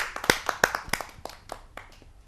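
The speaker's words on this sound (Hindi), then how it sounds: "आप सबकी जोरदार तालियों से" A few people clap to welcome a poet at a kavi sammelan, sharp scattered handclaps that start with several strong claps and thin out to sparse, fading ones within two seconds.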